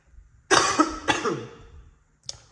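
Two harsh, close coughs in quick succession, followed by a short faint throat sound after a brief pause.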